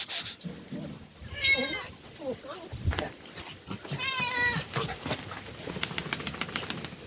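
A cat meows outdoors on a grassy walk with other pets, high wavering cries near 1.5 s and 4.3 s amid background rustle and voices; a person also imitates a meow.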